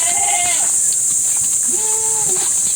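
Two goats bleat nearby on a mountain goat farm, one short cry then a longer wavering one, over a constant high-pitched buzz of insects or background hiss.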